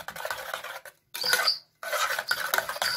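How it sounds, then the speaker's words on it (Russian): Rapid scraping and clinking of a spoon whisking sugar into colostrum in a bowl, in close bursts with a brief pause, no talking. "Поэтому взбиваю ложкой"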